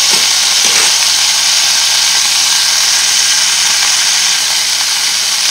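Sausages frying in a pan, giving a loud, steady, close sizzle of hot fat with a few faint pops, continuous throughout and without talking.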